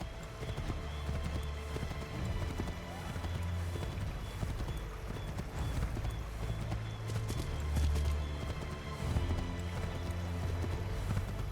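Horse hooves clip-clop at a steady gallop in the Assassin's Creed III game, a continuous rhythmic pounding with occasional whinnies over a dense game soundscape, loud throughout.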